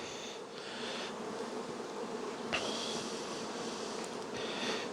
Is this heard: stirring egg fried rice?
no